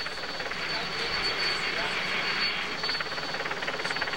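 A helicopter filming a Tour de France road stage roars steadily and loud throughout, a dense continuous engine and rotor wash with faint crowd noise beneath.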